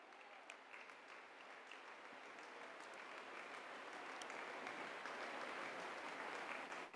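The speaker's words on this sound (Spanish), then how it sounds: "Sí, aplausos para Él" Church congregation applauding during a sermon, a broad wash of clapping that swells gradually and holds steady, filling the room without speech.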